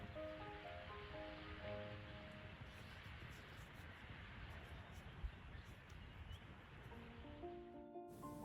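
A waterfall below a lakeside evening camp in the Ancient Lakes area of Washington makes a steady, broad roar of falling water, constant and fairly distant, with no one talking over it.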